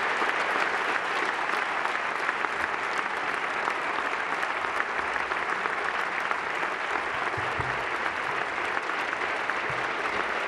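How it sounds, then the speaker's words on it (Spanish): Dense, sustained applause from a theatre audience at the Teatro de Rojas during an institutional Día de la Región ceremony, steady and full throughout with no voices over it. "merecedoras lógicamente de este aplauso del Teatro de Rojas"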